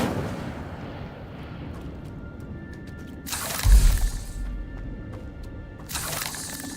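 An Incendio fire spell cast in Hogwarts Legacy bursts out as a loud, roaring whoosh that swells and fades over about a second, then flares again near the end over a low game ambience.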